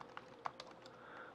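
Keystrokes on a Chromebook keyboard, a few sparse, soft clicks spread irregularly with one sharper tap, quiet and close with no voice.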